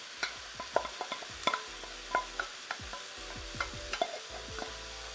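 Rich curry sauce for a Chinese takeaway-style beef curry hits a hot pan, giving a soft sizzle under repeated clattering spoon or spatula strokes as it is stirred and scraped, fairly close and moderately quiet.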